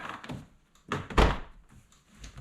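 A plastic door handle panel on a 1999-2007 Chevy/GMC pickup is pressed into its slots with a few close, dull snapping thunks, one sharper and louder than the rest, amid light handling noise.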